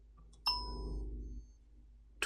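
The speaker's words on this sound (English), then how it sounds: "alarm went off there, notification" A short phone notification chime sounds at moderate level, a bright ringing tone that fades over about a second, with a second brief chime beginning right at the end.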